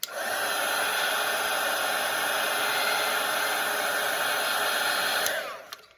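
A hair dryer blowing on a watercolour painting roars steadily and loudly for about five seconds before it is switched off and winds down. No one speaks.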